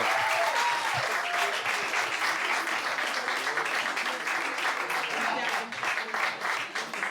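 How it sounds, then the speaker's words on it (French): An audience at a slam poetry tournament applauds a poet, a full, continuous wash of clapping with a few voices and cheers mixed in, easing slightly toward the end. "Applaudissez la poétesse."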